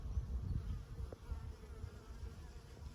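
Honeybees flying in and out of a hive hum and buzz steadily nearby, a soft continuous drone of many insects with no speech.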